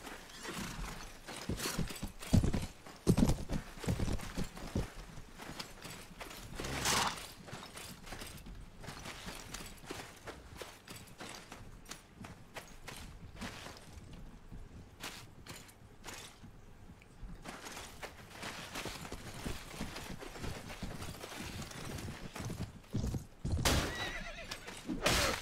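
Horses gallop and neigh in the Mount & Blade: A World of Ice and Fire video game, with rapid hoof clip-clops, whinnies and clattering mechanical noises throughout a long, busy stretch.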